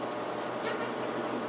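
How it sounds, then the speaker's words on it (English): A Whirlpool washing machine spins down after its cycle, giving a faint, steady mechanical whir with a constant hum and no talk. "We're just waiting for the whirlpool to finish spinning down."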